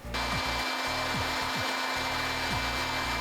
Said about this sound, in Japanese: このブロワーの風量がどのくらいあるかっていうと、ちょっと試しにスイッチ入れてみましょうか